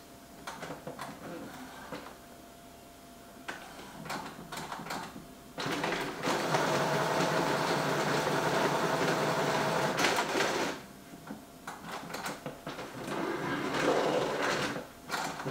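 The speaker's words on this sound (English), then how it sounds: "Printer's starting to make a few noises." Epson ET-8550 photo printer feeding a long sheet of panoramic paper, giving off mechanical clicks and ticks that build into sustained whirring feed bursts, fairly close and moderately loud.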